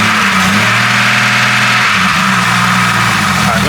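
A 4.0 engine running on pure Lucas oil additive revs hard and loud throughout, its steady droning roar shifting pitch as the throttle rises and eases near the end.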